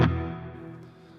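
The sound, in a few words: reverb pedal with pre-delay at shortest setting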